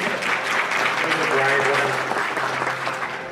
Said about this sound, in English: clap for Nicole